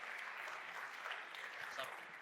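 Steady, faint applause from a pitch competition audience at a tech conference, continuous and even throughout with no clear breaks.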